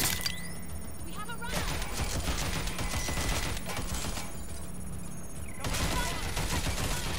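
Bursts of gunfire from suppressing fire in the Watch Dogs: Legion video game crackle through a dense, noisy mix under a voice talking.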